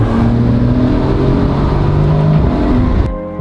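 A Porsche GTS Street Cup race car pulls away under hard acceleration, its engine note climbing loud and close through the gears before cutting off abruptly.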